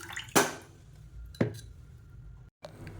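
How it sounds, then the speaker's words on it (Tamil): Water is poured over raw rice left to soak while preparing venpongal, heard as two short splashy pours with drips and light clinks of a vessel, close and fairly quiet. "இப்போ அதை தண்ணி ஊற்றி நல்லா ஒரு 10 நிமிஷம் ஊற வச்சுக்கலாம்."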